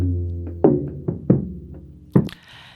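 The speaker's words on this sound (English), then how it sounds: "Now, I wasn't a big fan of how these toms sounded" Old drum toms with worn heads are struck four times in an uneven pattern, each hit a dull, boomy thud with a short ringing tail, followed by a sharper crash-like hit that fades into a hiss.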